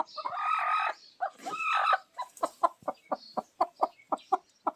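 A broody hen close by, being set on eggs in sand, gives a few drawn-out squawks, then settles into a steady run of short, rhythmic clucks.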